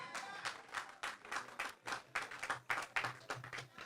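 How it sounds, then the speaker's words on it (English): Rally audience applauding a campaign manager at an outdoor political event in Quarry, East Kingstown, heard as bursts of clapping that rise and fall in uneven waves, moderately close, with no clear voices over it. "Give him a round of applause too."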